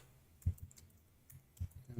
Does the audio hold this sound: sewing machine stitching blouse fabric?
no